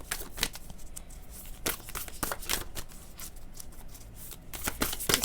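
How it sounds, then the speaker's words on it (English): Tarot cards drawn and shuffled from a deck, a run of crisp papery flicks and slides close by, repeated in short bursts over a low room hiss with no talking. "Now let's take one card or two cards from this deck."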